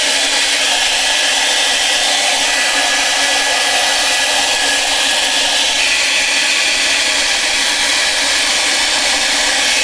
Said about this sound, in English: We can dry it with the hair dryer.